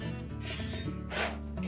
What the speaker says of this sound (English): just reach inside the opening and spin that wheel to make sure that it's not touching anything